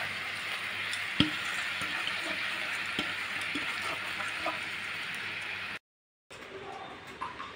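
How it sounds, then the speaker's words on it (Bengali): Grated coconut mixed with jaggery being cooked and stirred in a wok, giving a continuous sizzling hiss with soft scraping knocks, briefly cutting to silence near the end before the sizzle resumes. "এই যে নারকেলটাকে আমি গুড় দিয়ে মাখিয়ে নিয়েছি, এবার আমি এটাকে দিয়েছি কড়াইতে। এবার এটাকে খালি নাড়াতে হবে"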